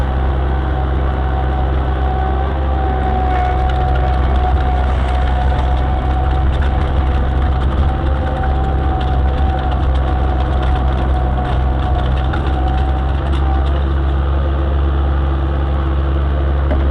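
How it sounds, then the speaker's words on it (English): A skid steer loader's diesel engine runs steadily at a low, heavy rumble while it pulls fence wire around for setting T-posts, loud and constant with no voices. "use the skid loader to pull the wire back around"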